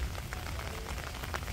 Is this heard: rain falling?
yes